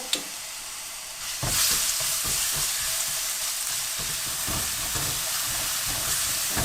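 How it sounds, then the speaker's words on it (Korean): Garlic frying in a pan at the start of a stir-fried green pumpkin dish, a steady loud sizzle that flares up after a soft opening tap and keeps crackling with faint stirring clicks throughout, no talking. "자, 달고기 팬에다 마늘 넣고"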